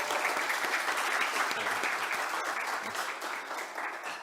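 An audience in a church-style gathering gives a warm round of applause, a dense continuous patter of many hands that holds steady and eases slightly toward the end.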